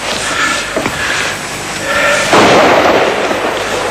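A gunshot on a safari hunt gives a loud, broad blast that booms and rolls out over open ground, with an earlier fainter crack and some outdoor rumble around it.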